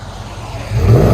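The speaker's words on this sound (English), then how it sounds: "the combination of the 3-inch pipe, 5-inch tip, and the Flow effect gives it a really nice deep tone" A 2001 Chevy Tahoe with a 5.3L V8 and Flowmaster Flow FX exhaust, 3-inch pipe and 5-inch tip, rumbles low and deep, swelling louder in a short rev near the end.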